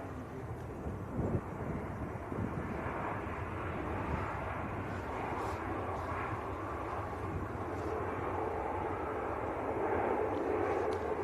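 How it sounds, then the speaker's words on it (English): A Luxair Dash 8 turboprop taxis at Manchester Airport, a steady low engine drone with wind rumble, moderately distant and continuous, rising slightly toward the end. "Also got the Luxair Dash 8 taxiing out as well at the moment."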